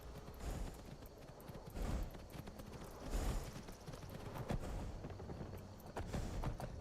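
Horse hooves clip-clopping in the video game Skyrim, Wabbajack modpack, a steady quiet rhythm of hoofbeats with occasional heavier thumps, faint and continuous with no talk.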